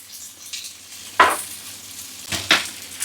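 Sausages and onions frying in a pan give a soft, steady sizzle with a couple of sharper bursts of spitting and stirring, close up and with no voices.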